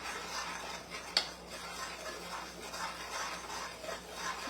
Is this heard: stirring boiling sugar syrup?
yes